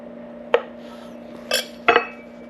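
A knife cuts a cooked scallop on a plate, giving three distinct sharp clinks and scrapes spaced about a second apart, over a steady low hum.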